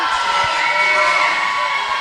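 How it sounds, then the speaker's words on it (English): Teammates at a girls' high school swim meet cheer and shout for a swimmer in a reverberant pool hall, a loud, continuous wash of young voices. "Teammates cheering her on."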